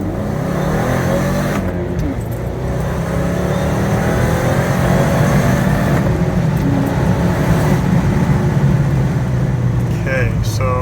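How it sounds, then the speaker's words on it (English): A supercharged Subaru FB25 boxer engine at 5 psi revs hard during a 0-60 acceleration run, producing a loud, sustained roar that holds its strength for the full length with steady road and wind noise underneath. "Let's rev it up, and we're still going to use the pedal switch."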